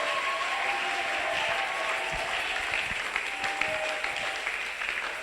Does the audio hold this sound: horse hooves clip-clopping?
no